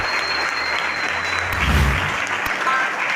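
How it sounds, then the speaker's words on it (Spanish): A church congregation applauds during a Spanish-language service, a loud, continuous and dense sheet of clapping sustained from start to finish, with a low rumble partway through and no speech. "Denle un fuerte aplauso al Señor"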